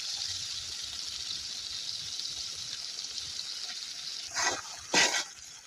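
Rui fish curry with cauliflower hisses steadily in a pan, a continuous sizzle broken near the end by two brief scraping stirs.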